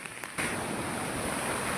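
Floodwater from a swollen creek in the Konkan rushes by as a steady, broad roar, close and loud, starting abruptly after a brief quiet moment.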